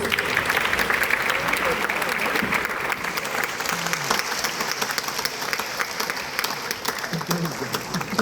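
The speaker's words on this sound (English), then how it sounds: "I think we need to give them another round of applause." Sustained audience applause at a memorial lecture, dense steady clapping from a large crowd lasting throughout, with no speech over it.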